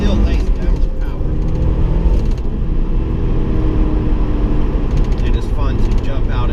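A Porsche 968 Cabriolet's four-cylinder engine drives in traffic as a steady low engine drone that rumbles on throughout, with people talking over it.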